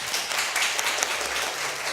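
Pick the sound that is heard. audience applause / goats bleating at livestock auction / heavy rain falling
audience applause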